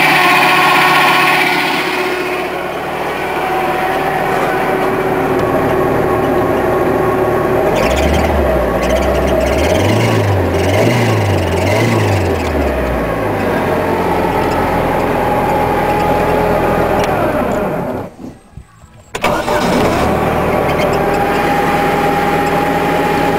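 Boat engine with its lower unit in a water bath, turned on by key: a loud steady running drone with a pulsing rise partway through and a brief cutout near the end, no talking.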